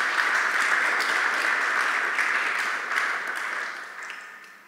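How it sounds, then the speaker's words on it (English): An audience bursts into steady, dense applause that holds at full strength for several seconds before gradually fading away toward the end. "Can we have a round of applause for that?"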